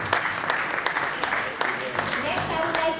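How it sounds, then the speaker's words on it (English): An audience at a sports and exercise medicine conference closing ceremony claps steadily, a close, continuous patter of hands with a few sharper claps standing out. "A big clap for Mr. Manoj"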